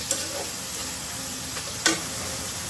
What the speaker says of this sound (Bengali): সবগুলো মাছ একটা একটা করে ভেজে নিচ্ছি